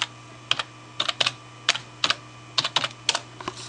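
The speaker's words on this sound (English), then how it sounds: "I'm gonna be typing slowly." Slow, irregular typing on a computer keyboard, close up: sharp clustered key clicks with short pauses between bursts over a faint steady hum.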